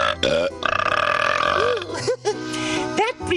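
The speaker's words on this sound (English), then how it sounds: "If a tree burps in the forest, does it make a sound?" A cartoonish burp voiced for a tree in a children's science show, loud and drawn out, with whooping effects and musical sounds layered over it.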